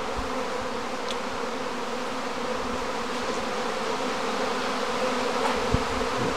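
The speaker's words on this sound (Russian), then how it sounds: "Из первого улья, вот из этого, выходит третий рой." A honeybee swarm pours out of a hive at an apiary, a dense continuous buzzing hum of many bees that stays steady and loud throughout, with no talking.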